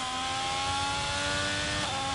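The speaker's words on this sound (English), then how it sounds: "Car wiggling under power, trying to get that power down." An F1 race car accelerates hard out of a corner on a wet Canadian GP circuit in a racing video game, its high-pitched engine whine loud, close and continuous, climbing in pitch, with no talk over it.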